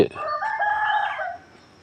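A rooster at a temple in rural Lampang crows once, close and clear, a long drawn-out call lasting over a second before fading to quiet.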